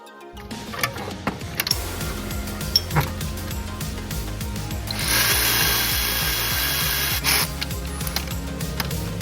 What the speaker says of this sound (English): now we remove the three 12 millimeters that holds up the tension pulley